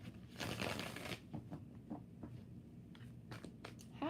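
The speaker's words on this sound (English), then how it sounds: "One more shuffle." Tarot cards are shuffled by hand in a quiet room, giving a few soft riffling and papery rustling bursts, close and faint.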